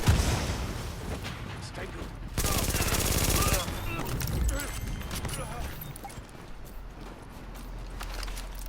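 Rapid automatic fire from an MP7 submachine gun in the video game The Division, a loud sustained burst about a second long amid other game gunfire and ambient battle noise, with some talk.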